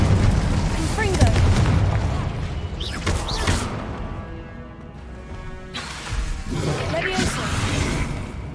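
Repeated booming spell blasts and crashing impacts from the video game Hogwarts Legacy, several sharp hits over a dense rumbling backdrop, with a voice speaking over the action.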